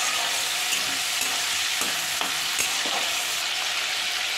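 Prawns fry lightly in hot oil, giving a steady bright sizzle with occasional crackles and the scrape of stirring, close and continuous, without any talk.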